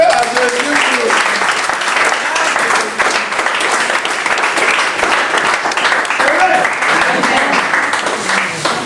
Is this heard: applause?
yes